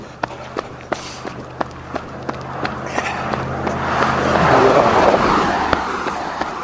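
Cars pass on a road, a broad swelling rush of traffic that builds to a peak near the end, with regular sharp clicks or footsteps running throughout and a low hum fading out partway.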